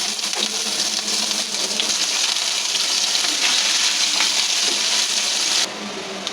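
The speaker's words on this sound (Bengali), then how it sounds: "আমরা এখন একটু এলাচি দারচিনি দেবো, একটু জিরা সম্বাদ দেবো, আর একটা তেজপাতা দেবো, দিয়ে পেঁয়াজটা দিয়ে দেবো।" Cardamom, cinnamon, cumin, bay leaf and onion fry in hot oil with a loud, continuous hiss and crackle that holds steady and then drops slightly near the end. No one speaks.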